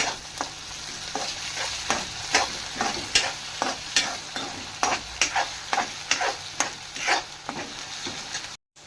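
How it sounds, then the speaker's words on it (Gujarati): Capsicum frying in a pan while ginger garlic paste is stirred in, for a cheese masala sandwich: a steady sizzle broken by repeated scraping strokes of a spatula in an even rhythm, close and alone with no talk. "આદુ લસણની પેસ્ટ મેં મિક્સ કરી દીધી છે."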